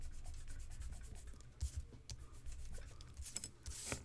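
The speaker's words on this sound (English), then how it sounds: "put that up on top and give it a burnish" Paper comic cut-outs being burnished by hand onto a card, quiet close rubbing strokes in an uneven rhythm with a few sharper scrapes, no talking.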